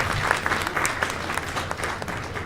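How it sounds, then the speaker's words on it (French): Loud, dense audience applause at an awards event in Benin, a steady wash of clapping that carries on without a break. "applaudissez très très fort,"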